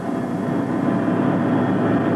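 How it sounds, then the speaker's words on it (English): A Russian-made helicopter of Pakistan's anti-narcotics force flies on patrol, its engine and rotor giving a loud, steady, even drone heard from inside, with no breaks or voices. "In a Russian-made helicopter paid for by the British, Pakistan's anti-narcotics force is on patrol"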